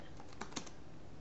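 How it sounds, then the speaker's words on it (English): Keys on a computer keyboard tap in a quick, light run, a handful of soft clicks with two slightly louder strokes, close and quiet with no voices. "you can do that by just typing the preset in here and hitting save"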